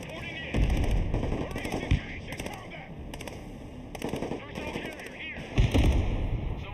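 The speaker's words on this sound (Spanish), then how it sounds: "Al final los vehículos tienen ametralladoras." Military vehicles in the strategy game Broken Arrow firing machine guns in repeated rapid bursts, with heavier thuds mixed in and a voice talking over the gunfire.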